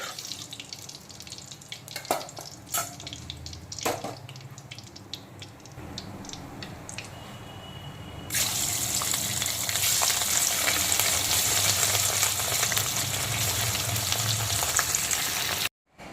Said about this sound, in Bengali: আর পোনা মাছের বাকি লবণ হলুদ মাখানো পিসগুলোকেও একইভাবে ভেজে তুলে নেব